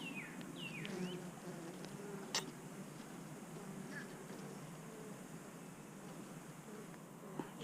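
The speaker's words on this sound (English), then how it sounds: "he's going to get a very nice box of bees." Honey bees in a box sending up a steady, low buzzing drone throughout, with a few brief higher insect whines passing close by and no talking.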